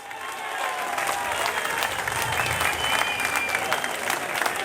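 Steady applause from a mushaira audience at a poetry gathering in Jahanian, a dense wash of clapping holding evenly throughout without pause.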